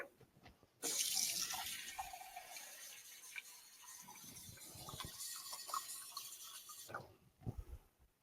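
Water, 3.5 cups, runs into a pot holding 2 cups of brown rice, a steady tap-like gush that starts abruptly, flows for about six seconds with small clinks, then stops.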